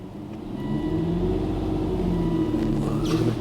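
An Aston Martin DB9 rolls slowly into a workshop, its engine giving a steady low rumble that holds at a constant level throughout with no other sounds over it.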